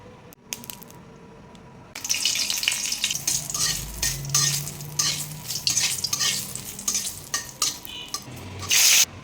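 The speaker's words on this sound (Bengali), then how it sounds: "আমি এখন সবজিটা ফোড়ন দেব" Mixed vegetables hit hot oil with tempering spices and break into a loud, crackling sizzle, followed by steady frying with repeated stirring scrapes and a clatter of utensils against the pan. Quieter kitchen noise comes first.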